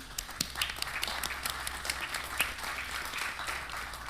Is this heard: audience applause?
yes